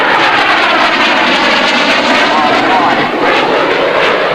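A Harrier GR7 jet roars past, loud and close, a broad, steady engine rush with someone talking over it.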